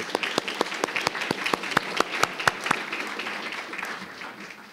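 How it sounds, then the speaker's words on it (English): Applause at a school board meeting, with a few sharp individual claps standing out over a lighter spread of clapping that slowly thins and fades toward the end. "One more round of applause for Mrs. Eubank."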